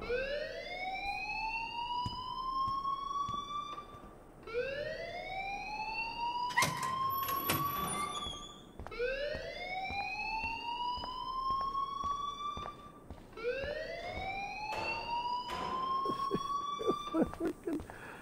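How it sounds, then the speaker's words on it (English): Repeating rising siren-like alarm wails in the Life is Strange video game, four long sweeping cycles that climb and hold, loud and continuous with a few sharp clanks and bursts in between. "please turn off that alarm since that's your job"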